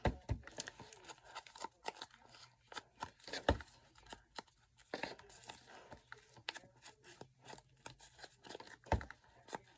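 Quiet, close snipping and crinkling as scissors cut through a dried, glued paper craft piece, a run of irregular small cuts and paper rustles with no speech.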